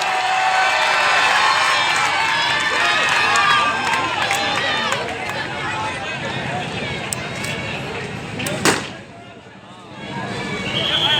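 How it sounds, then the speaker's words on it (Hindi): A crowd at a public political meeting in Juhapura cheers and claps, a busy mix of applause, shouts and babble that swells, then thins out. "जोरदार तालियों से इनका इस्तकबाल करिए।"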